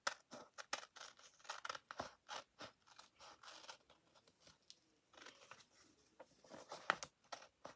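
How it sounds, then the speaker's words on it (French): Scissors snipping through soft craft material while making a bubble tea squishy, a long run of close, crisp cutting snips in uneven rhythm with brief pauses, no talking. "j'avais déjà commencé à couper avec le ciseau"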